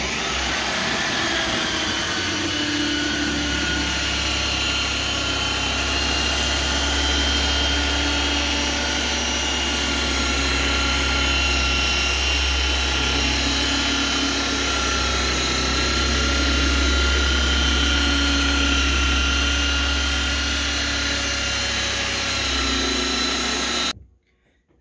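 An electric car polisher, about six pounds, buffs automotive paint with polish under light hand pressure, a loud, steady motor drone with a faint rhythmic hum that runs continuously before cutting off abruptly at the end.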